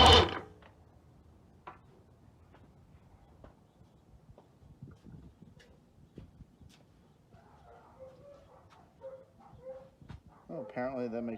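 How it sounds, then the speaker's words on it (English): Dogs bark at a distance near a lake, set off by a boat's port motor being checked for spark, with short scattered yips over low background noise and people talking nearby. "apparently that makes the dogs bark"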